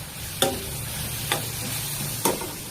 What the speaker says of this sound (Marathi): बघा कसा लाल झालाय कांदा असं लाल भाजायचं